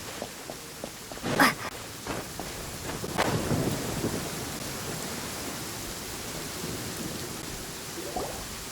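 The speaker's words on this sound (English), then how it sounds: "Where is the storm headed?" A Genshin Impact thunderstorm rolls on with steady rain hiss, a couple of sharp thunder cracks early on, and a lower rumble that fades into the continuous downpour at moderate volume.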